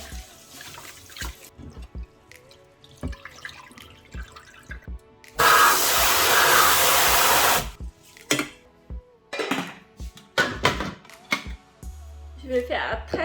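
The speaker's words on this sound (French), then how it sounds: "je vais commencer par cuire le riz en premier. Donc tout d'abord, je vais les rincer" Rice being rinsed under running tap water in a home kitchen before cooking: a loud, steady gush of water for a couple of seconds mid-clip, with clinks and splashes around it and a person talking.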